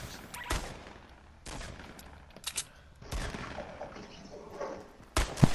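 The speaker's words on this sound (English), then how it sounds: "Someone's shooting." Gunfire in the video game Fortnite Battle Royale, scattered single shots and short bursts, some sharp and close, others more distant, over quiet background.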